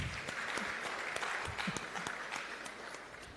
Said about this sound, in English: give them a round of applause for me